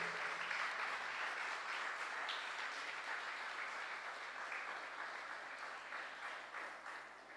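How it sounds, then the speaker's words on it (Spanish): Church congregation clapping during a sermon, a broad wash of applause that is fairly faint and gradually tapers off over several seconds. "Denle un aplauso al Rey de Reyes y al Señor de Señores."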